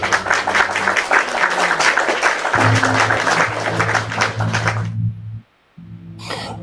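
Audience applause at a French-language cultural talk, dense clapping that overlaps a low steady hum, then cuts out briefly before resuming.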